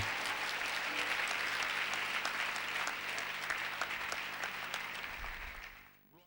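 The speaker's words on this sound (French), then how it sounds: "Acclamons la parole du Seigneur" A church congregation at a sermon applauds, a dense, loud wash of many hands clapping together that holds steady, then thins and fades away in the final second.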